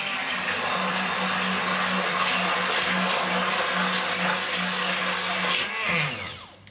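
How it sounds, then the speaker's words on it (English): An immersion blender whirs loudly and steadily through kabocha pumpkin for several seconds, its pitch shifting and sweeping as it slows near the end. "let's try the immersion blender."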